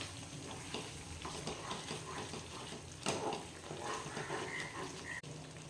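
Hyderabadi chicken gravy is stirred in a pan after lemon juice is squeezed in, giving soft wet scraping and a quiet bubbling simmer, with a sharper clank near the middle, fairly faint and without talking.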